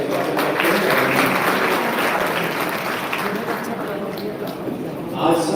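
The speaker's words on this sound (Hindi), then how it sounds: "ताली बजाकर हम उनका स्वागत करते हैं।" An audience at a youth gathering claps to welcome guests, a loud, sustained crowd applause that thins slightly toward the end.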